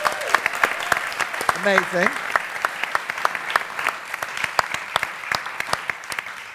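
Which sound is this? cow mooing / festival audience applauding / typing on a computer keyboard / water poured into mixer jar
festival audience applauding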